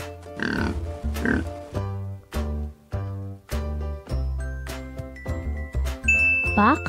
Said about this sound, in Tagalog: Baboy